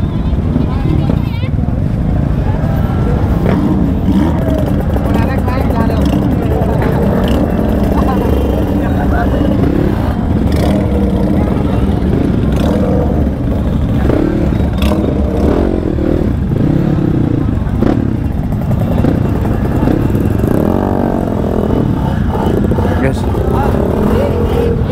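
A motorcycle is kick-started by a rider standing over it, then left running and revving with a rough, clattery rumble. The engine stays fairly loud throughout, with people talking nearby.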